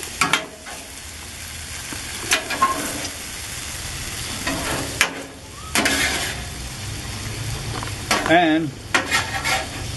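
Chopped vegetables sizzling and frying in a hot pan for a chopped cheese sandwich, with steady crackling broken by a spatula stirring and scraping, plus a brief word spoken.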